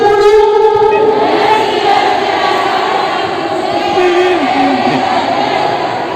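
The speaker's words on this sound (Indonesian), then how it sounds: "berikan tepuk tangan untuk teman-teman mahasiswa baru yang laki-laki" Crowd cheering and applause for new university students at the PESONAMU 2020 orientation event, a loud, steady roar of many voices that holds for the whole stretch with no break.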